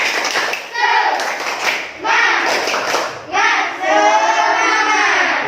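A classroom group claps together in rhythmic bursts, loud and close, with short pauses between rounds and children's voices mixed in.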